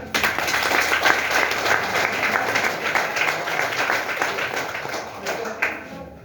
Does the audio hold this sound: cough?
no